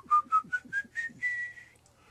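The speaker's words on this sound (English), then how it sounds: "Today I'm going to teach you how to hum whistle." A person hum whistling, blending a voiced hum with a whistle in a series of short rising tones followed by one longer sustained note, close and clear with nothing else heard.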